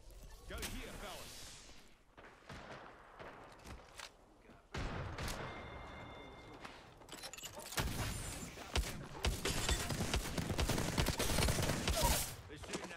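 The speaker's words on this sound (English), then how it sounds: "They're shooting at me." Apex Legends match gunfire: rapid bursts and single shots crackle and thump back and forth, growing denser and louder toward the end, with game voice lines and player talk over the shooting.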